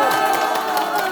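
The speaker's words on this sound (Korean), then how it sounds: "힘찬 박수." Crowd applause with some cheering at a political press conference announcing a Gangseo district mayoral candidacy, a dense steady wash of clapping filling the room.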